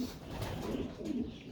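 Pigeons cooing at a farm with pigeon lofts, a steady low soft cooing that carries on throughout the short stretch at moderate, close range.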